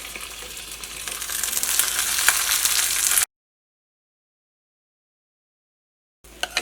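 Steady sizzling of cut vegetable pieces frying in a pan of masala for a few seconds, then silence, with a brief return of sizzle and clinks at the end.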